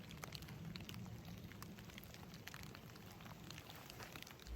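Soft, steady rain patters down at the Pacific Crest Trail's northern terminus, scattered drops tapping on a nearby surface over a quiet, constant hiss.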